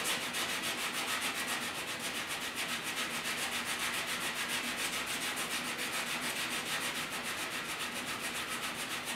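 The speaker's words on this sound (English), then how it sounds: "We're gonna take a scuff cloth and just scuff this area so our primer, of course, is gonna stick." Steady scuff cloth abrading a 1967 Chevy hood before primer, an even continuous rubbing hiss with a faint rhythmic back-and-forth pulse, close and alone.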